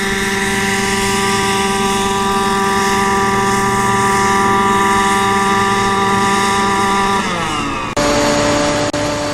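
A small gas-powered model helicopter hovers under autonomous control, its engine and rotor a loud, steady buzzing whine that drops in pitch as it settles to land, with no talk.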